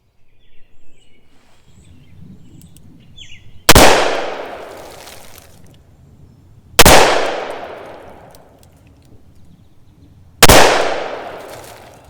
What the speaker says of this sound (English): Let's try it now with the .357 Magnums and see how they do from that distance.